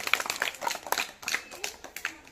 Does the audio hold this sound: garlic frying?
no